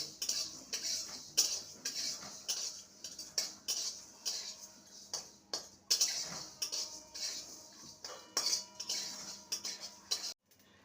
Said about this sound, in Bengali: ভাজা হয়ে এসছে দেখতে পাচ্ছেন চরবর চরবর করছে